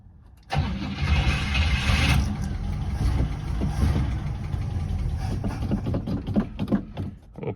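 A 1969 Buick Skylark barn find, off the road for 36 years, cranks and fires after a short quiet moment, then settles into a loud, rough, close idle that runs to the end.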